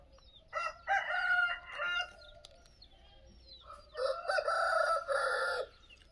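Desi chickens and a rooster on a low-cost poultry farm, with two bursts of loud crowing and clucking separated by a brief lull, fairly close.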